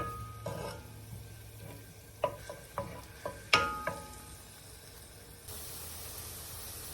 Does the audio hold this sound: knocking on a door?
no